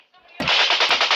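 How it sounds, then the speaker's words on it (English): Machine-gun fire from an Afghanistan combat video plays as a rapid, loud burst of sharp, crackling shots that follows a faint lead-in. "I got rounds impacting over here."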